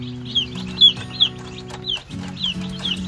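Baby chicks peep in quick, high chirps, several overlapping close by over a low steady hum.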